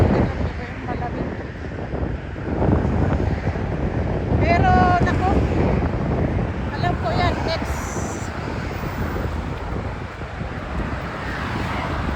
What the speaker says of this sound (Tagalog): Mga lamig ang simoy ng hangin.